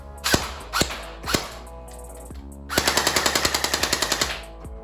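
Stock airsoft MPX gearbox on a 7-volt battery, fired first in a few sharp single shots, then in a rapid automatic burst of evenly spaced mechanical cracks lasting about two seconds, close and loud.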